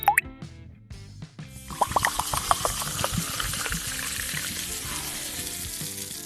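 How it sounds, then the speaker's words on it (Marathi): An apple cider vinegar effervescent tablet drops into 100 ml of water. A plop and a few drips come first, then a fizzing hiss that fades as the tablet dissolves, close and with no talking. "दोनच मिनिटाच्या आतमध्ये ही टॅबलेट पूर्ण या पाण्यामध्ये मिक्स होऊन जाते"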